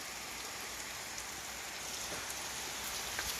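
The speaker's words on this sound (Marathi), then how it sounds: "आणि असं मस्त पाऊस चालू आहे बाहेर" Steady rain falls outdoors over a green soybean field in a rural village, a dense, even hiss of drops pattering on surfaces with no voices and no breaks.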